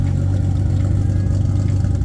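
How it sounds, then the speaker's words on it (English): A Nissan 300ZX fitted with a big-turbo 2JZ engine, its exhaust droning loud and steady at close range with a deep, continuous rumble and slight clatter. "let's finish this video off with some exhaust tone"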